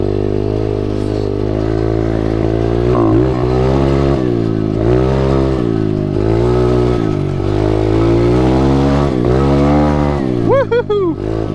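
An SSR125 pit bike engine revs hard in second gear, loud and close, its pitch climbing and falling in repeated surges while riding, with a brief voice near the end.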